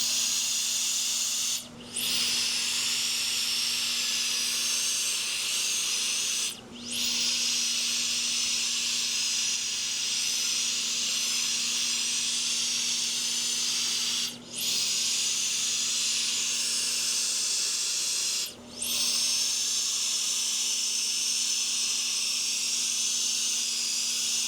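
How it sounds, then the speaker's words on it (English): A GooLoo F5 air duster blower on its third power mode blasting bamboo leaves, a loud steady rushing hiss with a constant motor whine, cut by four brief pauses where the airflow drops and restarts. "I'm going to see how well it does using the regular nozzle on it and see how powerful it is."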